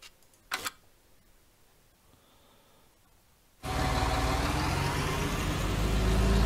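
Tractor engine in the Farming Simulator 19 video game on the NF Marsch 2.0 map, first quiet then abruptly loud from the middle, a steady close drone with rumbling low end that holds to the end.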